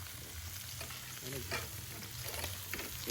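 Onions sizzle while frying in oil in a pan during an outdoor riverside meal preparation, giving a steady broadband hiss with occasional louder crackles and a low background hum, no speech.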